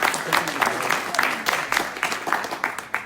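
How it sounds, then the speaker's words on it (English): Applause breaks out from the audience at a tech meetup event, a loose patter of clapping with uneven bursts, fairly close, with some crowd noise mixed in. "An applause."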